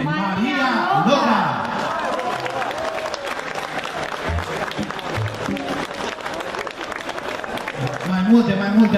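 An audience at a live folk and opera song show in Valcea applauds a singer with sustained, dense clapping, while a presenter speaks over the ovation.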